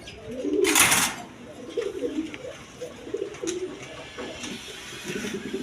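Pouter pigeons coo in low, repeated rumbling phrases at close range, with a sharp burst of noise near the start and some faint talk around them.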